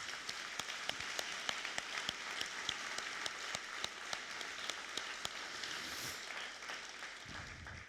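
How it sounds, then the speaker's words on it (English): Distant, quiet applause from an audience at a fire academy graduation ceremony, with scattered sharper claps standing out over a soft, continuous patter that sounds almost like rain. "Let's give them a round of applause."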